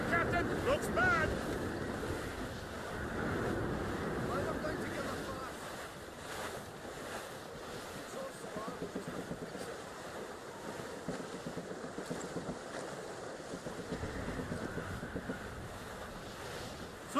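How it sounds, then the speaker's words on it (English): Stormy sea waves and wind surge in Assassin's Creed Rogue, a broad roaring wash of surf and gusts that swells and ebbs over many seconds, with occasional faint noises over it. "Storm, Captain! Looks bad!"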